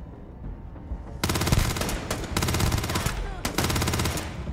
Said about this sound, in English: Oh, he shot the bucket.